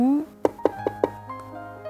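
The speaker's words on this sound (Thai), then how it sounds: "เสียงเคาะประตู" Four crisp knocks on a door in a steady even rhythm, close and clear, rising through a sustained musical tone and a fading vocal sound.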